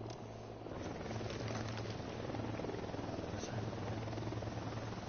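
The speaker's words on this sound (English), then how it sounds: "We'll need that chopper." A helicopter in the Ghost Recon Wildlands game drones steadily with a low, pulsing rotor hum. The sound is constant and moderately loud over five seconds.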